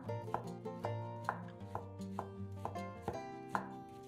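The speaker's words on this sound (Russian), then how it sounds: "а затем нарезаем их небольшими кусочками" A knife chops crab sticks rhythmically on a board, about a dozen crisp, close taps in steady succession with no talking.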